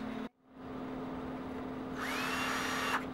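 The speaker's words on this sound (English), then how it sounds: "we got done drilling all the holes" A power drill whirs steadily after a brief pause, then the pitch rises and strains as the bit bites into Kydex holster material before stopping.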